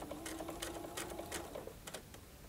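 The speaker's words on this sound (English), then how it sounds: "just stitch those shoulder seams in place" A sewing machine stitches the shoulder seams of a shirt through two layers of fabric, a quiet rapid mechanical whir with light ticking, close up and continuous over a couple of seconds.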